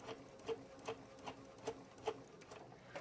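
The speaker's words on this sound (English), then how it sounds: "we're just going to sew this right along that line using the guide on the presser foot" A sewing machine stitches appliqué along a line with a presser foot guide, making quiet, evenly spaced ticking bursts of needle strokes at a steady rhythm.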